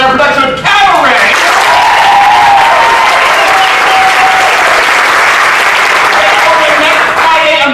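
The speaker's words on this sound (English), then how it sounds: "We want to give one big round of applause to Tacoma Musical Playhouse and their production of Cabaret." Loud, full audience applause at a theatre awards ceremony, a thick roar of clapping that swells right after a voice cuts off and holds strongly throughout, with some cheering mixed in.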